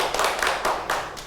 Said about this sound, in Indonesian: beri tepuk tangan buat teman-teman, buat teman kalian.